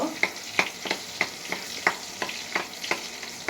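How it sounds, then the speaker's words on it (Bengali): Eggplant pickle with crushed olives stirred in a pan, a spoon or spatula scraping in roughly regular strokes about three times a second over a faint sizzle, close by with no talk. "এটাকে একটু নেড়ে দেব।"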